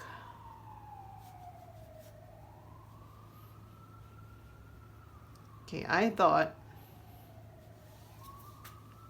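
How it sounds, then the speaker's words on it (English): A distant ambulance siren wails, rising and falling slowly in the background, while a voice speaks briefly partway through. "I won't be hearing the ambulance car"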